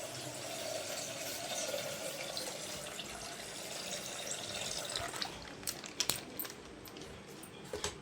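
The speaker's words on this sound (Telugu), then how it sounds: "ఇంకా పాలు అయితే 1/2 లీటర్ పాలు అనమాట. ఇవైతే పోసేద్దాము దీంట్లోకి." Half a litre of milk pours into a pot as a steady liquid rush, fairly faint and close, followed near the end by a few light clinks.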